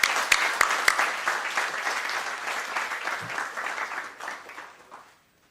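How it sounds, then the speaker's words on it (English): Applause from the audience at a convocation day, steady crowd clapping with a few crisp individual claps early, gradually thinning and dying away to silence. "So, a round of applause for them."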